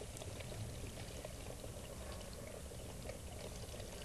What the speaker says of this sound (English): And as you pour the cleaner, it is going to foam.